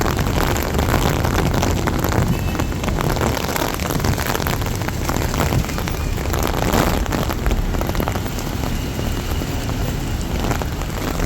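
Heavy rain pours steadily over Mecca in the evening, a loud, dense, unbroken hiss of drops striking surfaces, with no voices.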